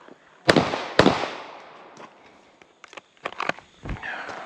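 Gunshots at a shooting range: two sharp, loud reports close together, each with a long decaying echo, then a scattering of quieter clicks, knocks and handling sounds.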